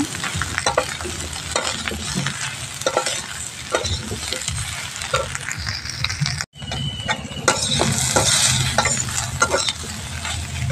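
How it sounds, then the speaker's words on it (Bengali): Eggplant frying and being stirred in a pan with eggs and potatoes, a loud continuous sizzle broken by repeated scraping strokes of the spoon, with one very brief pause midway; nobody speaks. "এখন বেগুনটা ছেড়ে দেবো। নাড়িয়ে থেকে ভালো করে মিশিয়ে নেব।"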